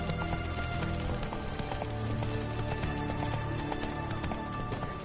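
Roach, Geralt's horse in the video game The Witcher 3, clip-clops along at a steady trot with close, rhythmic hoofbeats over a busy ambient game soundscape.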